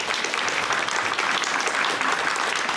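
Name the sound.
applause for the puppy raisers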